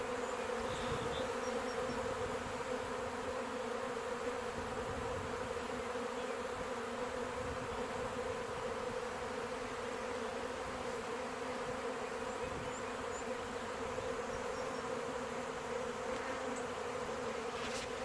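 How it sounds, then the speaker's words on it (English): A good-sized swarm of honey bees hums in a steady, dense drone, a constant buzzing mass with sustained tones and no pauses, moderately near and uninterrupted by any talk. "Good sized swarm."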